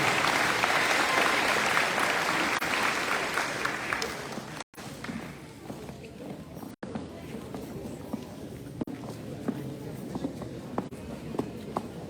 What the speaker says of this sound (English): So let's give them a big round of applause one more time.